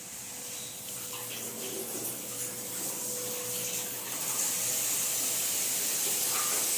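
Water running in a home kitchen, a steady broadband hiss and rush that grows slightly louder toward the end, close and continuous with no talk.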